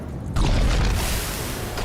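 A deep, heavy explosion boom in the video game Dota 2 bursts out and rumbles on, filling the low end for over a second, loud and close with no voices.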